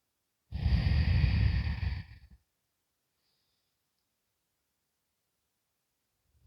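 One long, deep audible exhale during a yoga flow, close and breathy for about two seconds, then near silence.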